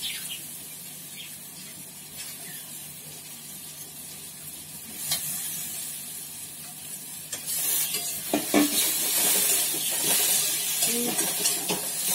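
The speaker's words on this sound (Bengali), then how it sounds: "সোয়াবিনটা এবার এই মশলার মধ্যে দিয়ে কষে নিলাম" Soybean chunks frying in spice masala in a pan, a steady close sizzle that swells louder midway as the pieces are stirred and scraped, with occasional clinks of the spoon.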